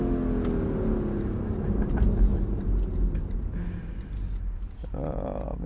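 A Lexus LC sports car engine drones steadily in the cabin as it climbs toward redline, a loud, sustained rumble with rising pitch and a rough bounce against the rev limiter near the end.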